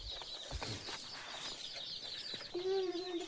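Siruvidai hens clucking on a farm, a short tonal call rising near the end over a low, busy background with scattered faint clucks and a voice.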